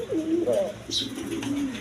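Racing pigeons coo in low, wavering phrases close by, one bird's bubbling call swelling and falling twice over a murmur of other birds.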